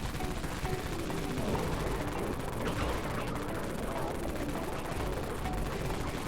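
Wraith cannon fire in the video game Dead Frontier, a dense, loud, continuous barrage of booming shots and explosions with no break.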